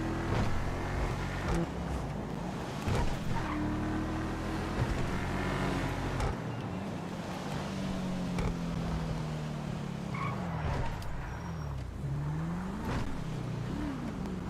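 Paragon R sports car driving in GTA 5 Online, its engine droning steadily and loudly throughout with pitch rising and falling through revs and gear changes.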